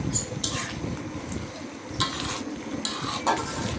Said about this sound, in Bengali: তো আমি খুব সুন্দর করে নেড়ে চেড়ে দিচ্ছি